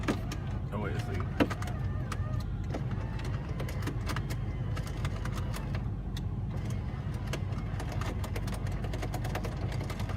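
A struggling power window motor in a 2008 Ford Expedition grinds and whirs steadily for the whole stretch, with a low drone and scattered clicks and knocks over it. No one speaks.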